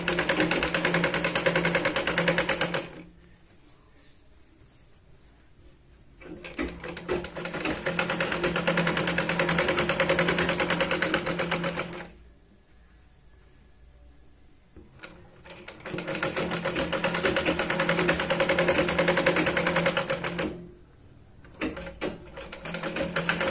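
A sewing machine stitches a big-size Katori blouse in three long bursts of steady, loud mechanical whirring. The bursts are separated by quiet pauses.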